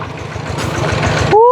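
A farm tractor idles in rural Thailand with a steady, close, low rumbling chug that grows slightly louder before a rising whistle-like tone at the very end.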